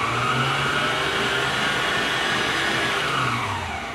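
Electric stand mixer with the bowl removed, switched on and running in a home kitchen: a steady, loud motor whir with a slight tonal hum that holds throughout and eases off a little at the end.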